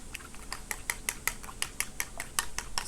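A utensil briskly whisks eggs in a bowl, producing quick, evenly spaced clinks and taps against the side, close and moderately loud, with no talking.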